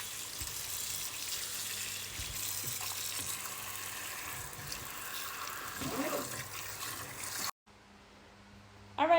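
Cooking ingredients for a Tanzanian family meal washed under a steady stream of tap water in a home kitchen; continuous rushing flow at moderate level, cutting off abruptly near the end.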